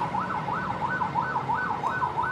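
An ambulance siren wails on an Indonesian street, its rising and falling tone repeating steadily through the whole stretch at moderate distance over low traffic rumble.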